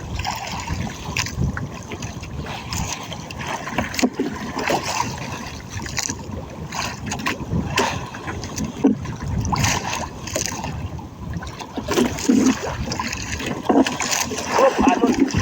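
Rough sea slapping and splashing around a small fishing boat, with steady wind buffeting the microphone throughout and a voice talking over the churning water.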